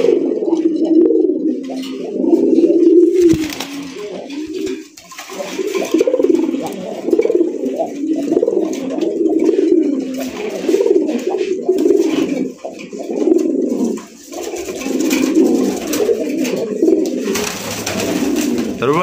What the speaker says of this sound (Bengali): তো স্ক্রিনে যে কবুতরটা থাকবে সেটা থাকবে নর এবার নরের ডাকটা দেখি